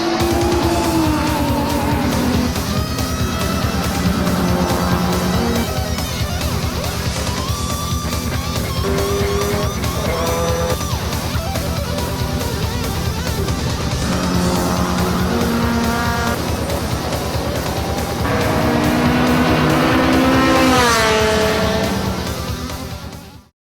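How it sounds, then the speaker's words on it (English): Race cars lap a racing circuit, engines revving up and down through gear changes with occasional tire squeal. Several cars overlap in a loud, continuous roar that swells near the end. "here at a circuit today where a race is about to go on,"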